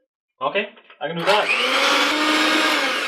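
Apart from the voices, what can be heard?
electric whisk whisking egg whites until stiff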